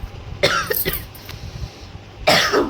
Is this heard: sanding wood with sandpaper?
no